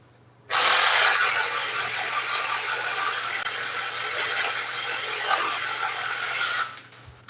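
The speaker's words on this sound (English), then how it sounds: "If you don't know about the Sawzall back massager, you need to get hit." A Sawzall reciprocating saw pressed to someone's back as a massager buzzes in a loud, steady rasping drone for about six seconds, starting abruptly and cutting off near the end.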